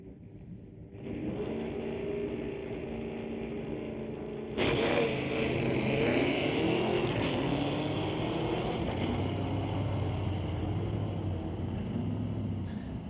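A 1968 Cougar and a 2018 Camaro drag racing on a street-legal night at a raceway, loud engines roaring as they launch hard and pull away, the sound staying strong and sustained.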